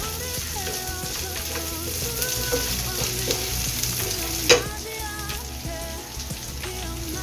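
Continuous sizzling and stirring as ingredients are sautéed in a pan for pancit bato with hotdog, with scraping clicks of a utensil throughout and one sharper clatter midway; close, steady, no talking.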